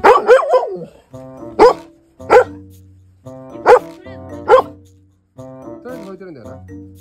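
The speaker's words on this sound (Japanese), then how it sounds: "誰が吠えてるんだよな。" Great Dane puppy barking in a series of loud, close barks and yips separated by short pauses, with a harmonic whine trailing off at the end.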